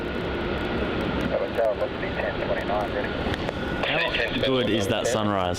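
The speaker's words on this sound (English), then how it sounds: "we'll have Shanghai Airlines, Boeing 787-9 coming in from Shanghai" A Shanghai Airlines Boeing 787-9 arriving at Melbourne Airport gives a steady broadband jet roar throughout, with people talking over the engine noise.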